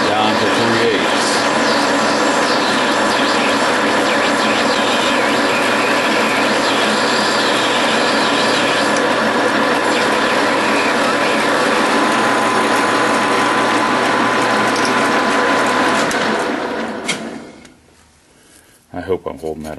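A hand-cranked lathe-like machine turns half-inch Delrin rod down to three-eighths, producing a continuous loud ratcheting, gear-grinding drone close by that runs steadily before cutting off near the end, followed by a few faint clicks.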